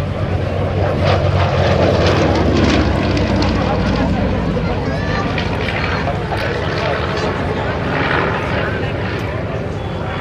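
Morane-Saulnier D-3800 aircraft with a 12-cylinder V engine of 860 hp running, a loud continuous broadband roar with propeller wash, steady throughout, with a voice speaking faintly underneath.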